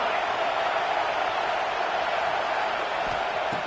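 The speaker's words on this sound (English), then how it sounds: "It's early, but this crowd is fired up. Listen to this noise here." Steady broadband roar of a packed stadium crowd in College Football 26, a dense, unbroken wash of noise at full volume for the whole span with no distinct cheers standing out.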